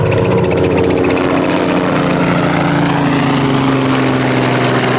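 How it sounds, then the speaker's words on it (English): A loud, steady engine drone with rhythmic rotor chopping, sustained and close as a helicopter passes overhead in the mountains, its pitch shifting slightly. "Oh, a helicopter."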